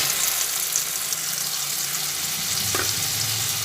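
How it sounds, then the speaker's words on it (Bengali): Spice paste poured into hot oil in a kadai for an Afghani egg curry, giving a steady, fairly loud sizzle and bubbling hiss with one brief clink near the end. "কড়ার মধ্যে আবার তেল দিয়ে দিলাম সেই তেলের মধ্যে পেস্টটা এক এক করে ঢেলে দিচ্ছি"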